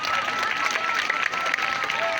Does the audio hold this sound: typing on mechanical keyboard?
no